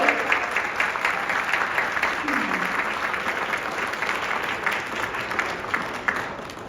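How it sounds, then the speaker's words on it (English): An audience at a charity walk kickoff event applauds an ambassador with a steady, moderately loud round of clapping filling the room throughout. "Big round of applause for our ambassador today"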